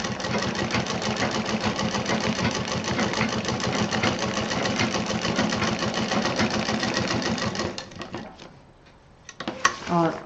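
A sewing machine set to tension 5 for long stitches while sewing a waterproof apron hums and clatters in a fast, even rhythm close by, then slows and stops near the end; a voice talks over part of it.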